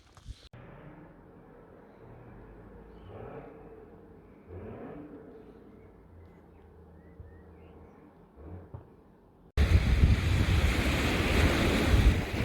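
Wind and surf on Monmouth Beach, Dorset, a soft steady rumble with faint wave wash for several seconds, then a sudden loud burst of heavy wind buffeting the microphone near the end.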